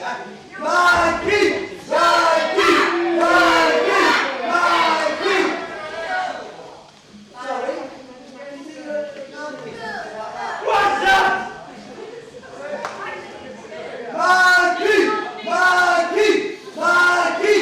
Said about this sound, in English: You normally clap and chant